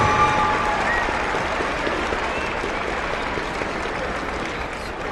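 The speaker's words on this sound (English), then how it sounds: "How about a big round of applause once again, our winner, Shakobia Barbie, and our other finalist here this evening" An audience at a 2012 TSSAA Division 1 Class AAA girls basketball championship applauds the tournament winner, dense sustained clapping filling the arena from start to finish, with faint crowd noise underneath.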